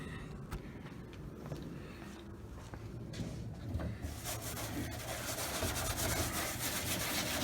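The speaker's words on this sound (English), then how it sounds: "I'm using that scouring pad again." A scouring pad scrubs steadily over peeling clear coat on a car's paintwork, a close, continuous abrasive rubbing that grows louder and harsher partway through, with no talking.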